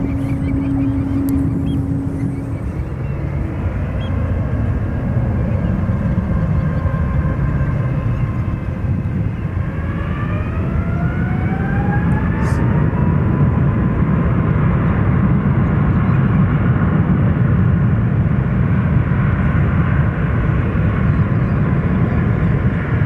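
Jet airliner, a United heavy, taking off from runway 28 Left at San Francisco International Airport, a loud steady roar with a rising whine as engines spool up, sustained and fairly close throughout.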